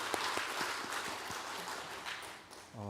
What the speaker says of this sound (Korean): 우리 수고하신 성가대 감사와 격려의 박수 보내겠습니다.